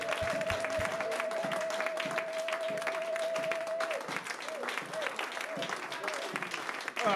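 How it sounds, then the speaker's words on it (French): A church congregation applauds in a steady, faint patter of clapping, with a sustained tone over the first half and scattered voices underneath. "C'est pour cela que nous voulons acclamer pour lui aussi."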